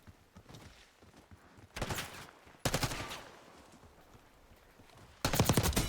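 Gunfire in the video game Black Ops 6: loud rapid bursts of automatic fire in three separate volleys, with quieter game sounds in the gaps.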